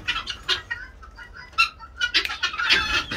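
A rooster and hens cluck on a farm, a run of close, lively bursts of clucking and squawks rising and falling with no one talking.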